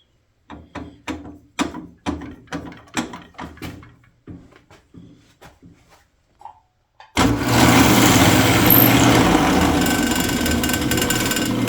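Power drill boring into the body of a Fender Squier Bass VI guitar, a loud steady whine that starts abruptly after a run of scattered knocks and clicks, then holds constant to the end.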